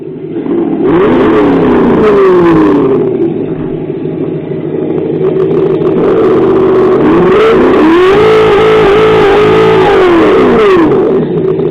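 Traxxas X-Maxx RC truck fitted with the ESS engine sound system, playing a loud, continuous simulated engine roar that revs up and down in repeated swells, steady and close with no talking.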